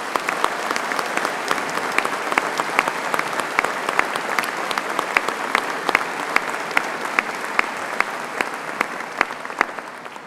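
An audience at a Birmingham City University ceremony applauds Birmingham Conservatoire musicians with a sustained, even round of clapping lasting about ten seconds, steady throughout.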